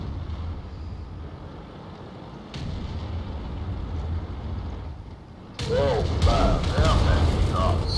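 A tank cannon fires a HEAT shell in World of Tanks, a sharp heavy boom followed by a rumbling tail over a droning engine, with someone talking over the blast.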